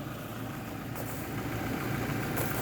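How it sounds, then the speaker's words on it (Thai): A Toyota Revo 2.8 pickup hums at a steady low drone while towing a trailer loaded with a tractor, heard from inside the cab with constant vibration and no talk. "เราขับเจ้ารีโว นะลากเทลเลอร์"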